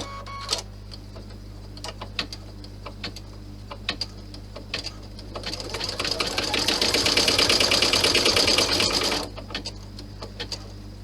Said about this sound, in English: I'm going to lower my needle into that top stitch line, make sure that I can still see it, and I'm going to hold the bag as it sews